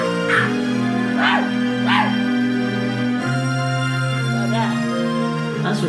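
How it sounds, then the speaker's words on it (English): A dog barks and yips in several sharp, close bursts over a sustained musical tone, with a voice nearby. "She wants you to bark back at her."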